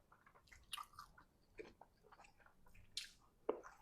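Close-up mouth sounds of someone eating boiled pork wrap with fiery spicy kimchi and green onion kimchi: a few soft wet bites and squishy chews, with sharper crunchy bursts near the middle and end, quiet and intimate.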